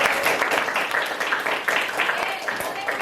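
A school class claps for a teacher in a classroom, a lively burst of many hands with uneven rhythm, mixed with children's voices calling out throughout.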